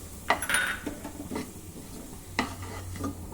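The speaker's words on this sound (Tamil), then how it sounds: "இப்போ 150 ரவையை போட்டு இந்த நெய்யிலே வறுத்து எடுத்துக்கிடுவோம்" Semolina is roasted in ghee and stirred with a utensil, making a few scraping, clinking strokes against the pan over a soft sizzle and a low background hum.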